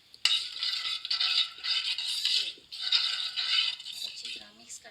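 Aloo mattar biryani mixture with yogurt being stirred in a pot, a wet, grainy scraping and swishing in repeated strokes with faint clinks of the spoon against the metal, close and fairly loud.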